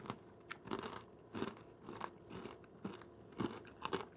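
Crunchy crystallized honey is bitten and chewed close up, a string of sharp crackling crunches recurring roughly every half second in an uneven chewing rhythm, quiet and with no talk.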